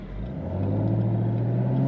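A 2024 Chevrolet Camaro ZL1 convertible with an automatic transmission cruises with its top down, its engine a steady, close mid-pitched drone that swells slightly as the car pulls away, with wind rush over the open cabin.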